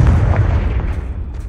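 A Confringo fire spell explodes in the Hogwarts Legacy video game, a loud, deep boom with a rumbling low tail that lasts about a second and a half.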